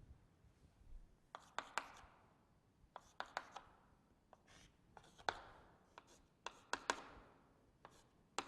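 Handwriting during a chemistry lecture, with scratchy strokes and taps in short irregular bursts spread across the stretch, close but faint, with no talking.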